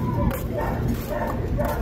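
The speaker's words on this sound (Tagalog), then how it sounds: "Ito yung mga aso." Several dogs bark and yip outdoors at a home in Canada, short repeated bursts close by, with people talking over them.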